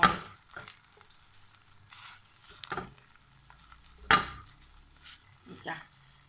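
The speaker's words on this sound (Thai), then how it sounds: "แล้วเราก็คนนะคะ คนลงนิดนึง ให้ ขยุบตัวนะคะ" A utensil stirs chicken and bitter melon shoots in a metal pot, giving scattered scrapes and a few sharp clanks and knocks against the pot, fairly close and quiet between hits.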